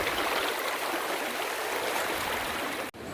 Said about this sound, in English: Going up the river to the waterfall.